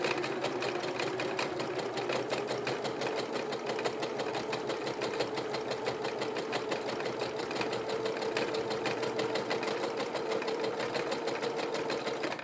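Sewing machine stitching a seam on a tote bag, a steady fast mechanical whir with an even needle rhythm running unbroken and close.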